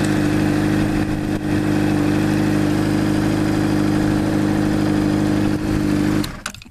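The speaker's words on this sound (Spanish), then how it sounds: "aquí el sonido de Honda también tiene algo muy particular" A Honda CBR 600 RR sport bike engine idles steadily and loudly for about six seconds, a continuous close mechanical drone that cuts off abruptly near the end.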